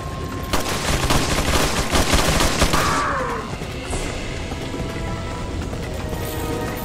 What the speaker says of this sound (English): He's just shooting.